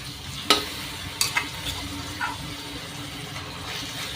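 Crushed green chillies go into hot oil with a soft, low sizzle and a few sharp clinks and taps from a spoon against the pan, heard close up and quietly, with no voices.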